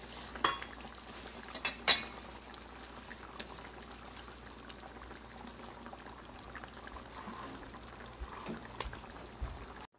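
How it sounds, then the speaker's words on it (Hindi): Koftas slide into a pot of boiling chicken-spinach masala gravy with soft plops and clinks of spoon and metal, a few sharp knocks early, over a low bubbling simmer nearby. "बॉईल करने के बाद अब हम इसके अंदर कोफ्ते डालेंगे।"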